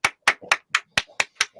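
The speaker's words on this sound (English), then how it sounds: "big round of applause for Katerina, please." Sharp, evenly spaced hand claps, about eight in under two seconds, close and fairly loud, with faint voice sounds between them during a food-themed quiz.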